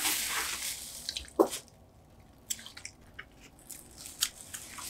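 Crunching and chewing a Twix-like chocolate caramel cookie: one sharp bite snap near the start, followed by soft, wet, irregular chewing close to the mouth.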